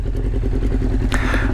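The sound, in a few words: 1999 Honda CBR 600F motorcycle engine idling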